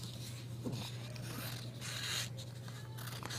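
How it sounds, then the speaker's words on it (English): Scissors cut along a dotted line of a paper glider pattern with wing and tail pieces, giving close, soft scraping and snipping over a steady low hum, with no talking. "I'm going to start by cutting straight across this dotted line"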